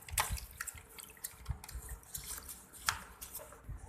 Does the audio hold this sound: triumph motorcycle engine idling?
no